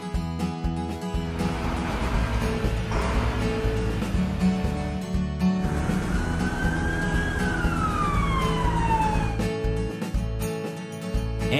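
A cartoon brush truck sounds its siren, a loud wailing tone that rises and falls, then sweeps down in a long glide over a steady engine hum.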